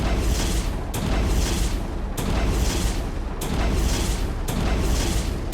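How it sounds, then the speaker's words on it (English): TOS-1 Buratino rocket launcher firing in the War Tycoon video game, a steady run of heavy rumbling launch booms repeating about once a second, loud and continuous with no talk. "This is how fast LOSAT can fire his missiles. And this is how fast Buratino can do it."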